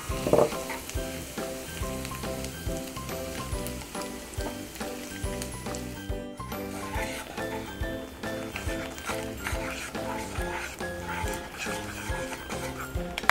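Garlic and salted egg yolk crackle and sizzle in hot oil, a busy frying sizzle with occasional stirring scrapes, set under steady background music.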